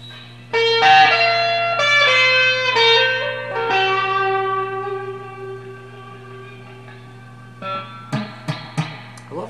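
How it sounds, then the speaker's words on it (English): Sustained electric guitar notes ring out through a warm, reverberant tube amp, each chord decaying slowly, followed by a few sharp plucked hits near the end. "I love that sound that reverb makes on like tube amps like this."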